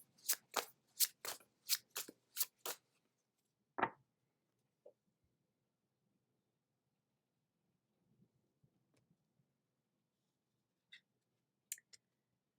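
Cosmic Journey Oracle cards are riffled in a quick run of about seven crisp snaps, followed by a single louder flick and then sparse, faint taps and rustles in near silence.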